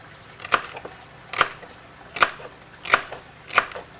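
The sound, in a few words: knife slicing down on food for lamb roast base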